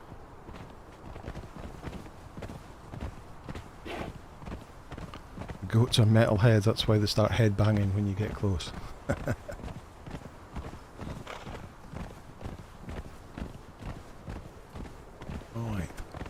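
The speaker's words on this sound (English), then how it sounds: "Let's get on the horse, it'll be quicker." Horse hooves gallop in the video game Conan Exiles, a steady clip-clop running under continuous talk, with a louder burst of game sound partway through.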